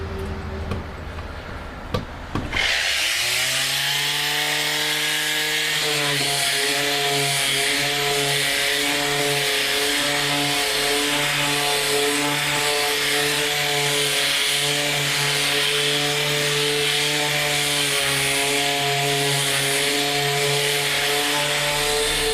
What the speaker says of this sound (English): Okay, and now comes the sanding.